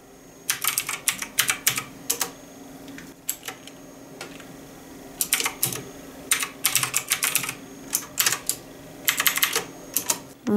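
Typing on a DEXP Black Sword RGB mechanical keyboard, bursts of sharp rapid clicking keystrokes separated by brief pauses, close and crisp, no talk.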